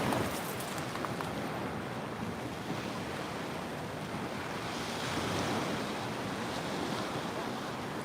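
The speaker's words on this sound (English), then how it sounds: "I wanted to show you this amazing sea." Continuous rushing of sea waves breaking, with wind buffeting the microphone, a dense steady wash of surf throughout with no voices.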